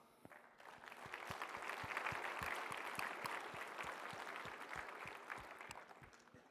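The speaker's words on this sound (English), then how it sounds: "Let's take a round of applause for our presenting sponsor," A conference audience at a tech keynote event applauds the presenting sponsor Microsoft; the clapping swells quickly, holds as a dense wash with some distinct nearby claps, then gradually tapers, heard from a distance.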